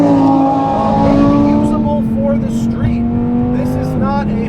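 A 2020 Lamborghini Huracan Evo's engine holds a steady, tonal drone that climbs and shifts pitch as it revs, loud and close, with a person talking over it.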